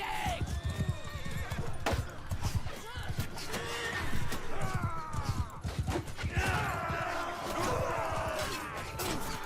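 Cavalry and horse archers charge in the Bannerlord battle game, with loud, repeated hoofbeats and several sharp neighs and whinnies, all under someone talking.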